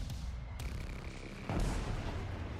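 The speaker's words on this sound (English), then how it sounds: "Another missile getting launched off the rails there." Air-to-air missile launching off a jet's rails in an air combat video game, a muffled whoosh and thump rising over a continuous low engine roar, moderately faint and with no talk.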